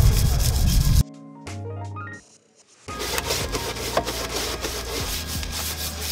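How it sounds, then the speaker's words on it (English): Wet sandpaper is rubbed across tile set into a table top, giving loud, gritty, rasping scrubbing strokes that stop briefly, then resume in a steady back-and-forth rhythm nearby. "I'm using a wet sandpaper to remove marks off the tile that's"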